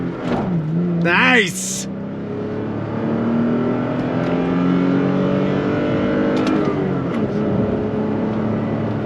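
A 2022 Toyota Tacoma TRD Pro pickup with a six-speed manual pulls away from a light under throttle, its engine drone rising steadily and close; someone speaks briefly over it near the start.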